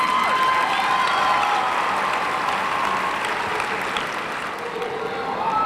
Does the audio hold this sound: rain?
no